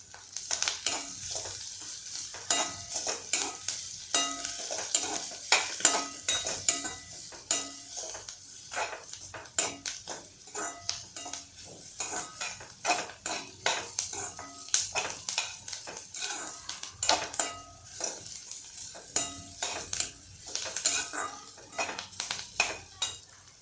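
Carrot, beetroot and other vegetables stir-fried over a full flame, with constant sizzling and rapid, repeated scraping clatter of a spatula against the pan, close and busy throughout, no talking.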